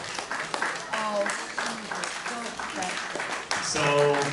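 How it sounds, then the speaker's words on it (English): An audience at an award presentation claps for a nominee, scattered hand claps mixed with voices talking over them and a swell of louder clapping toward the end. "an extended clap"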